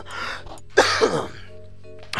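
A few harsh coughs and throat-clearing bursts, close and fairly loud, with short pauses between them and no talking.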